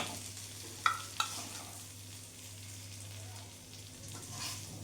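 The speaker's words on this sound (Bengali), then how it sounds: "কিছুক্ষণ ভাজা ভাজা করে নিয়েছি, দেখতে পাচ্ছ।" Small fish fry in a pan with kasundi mustard sauce, a soft steady sizzle with a couple of sharp utensil clicks near the start.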